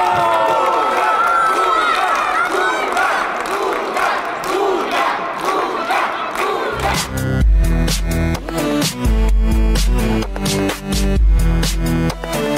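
Crowd at a youth mini-football tournament cheering and shouting in an ovation for the youngest player, a loud, dense roar of voices that gives way midway to loud music with a heavy beat.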